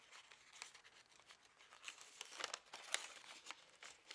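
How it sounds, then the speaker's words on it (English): A paper card is being reverse-folded with both layers pressed down, giving a soft, continuous crinkle and rustle with small crisp snaps. The sound is faint and close, and there is no talking. "let's just fold this inside, a reverse fold. So just fold both layers down."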